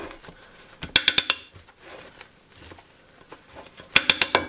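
A metal spoon clinks and scrapes against a bakery sandwich, digging out tuna mixed with mayonnaise. Two close bursts of quick, bright clicks come about three seconds apart, with quieter rustling between them.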